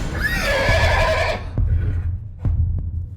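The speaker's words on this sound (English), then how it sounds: "Anderson's horses pulled loose of its reins and began neighing" Horses in a stable in an animated ghost-town story neigh in one loud, shrill, wavering whinny, followed by a few sharp thuds or hoof knocks as it fades.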